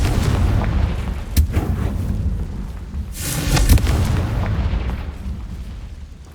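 A Confringo fire-spell explosion in the video game Hogwarts Legacy: a sharp boom lands early, then a bigger blast bursts and rumbles for about a second before fading into a dull roar.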